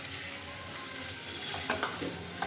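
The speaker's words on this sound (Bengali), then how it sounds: "আলুটা দিয়ে আবার কষিয়ে নিচ্ছি" Fried potatoes are stirred into a sizzling mushroom curry in a pan, giving a soft continuous frying hiss with a few scraping stirs near the end, quiet and close, with no talking.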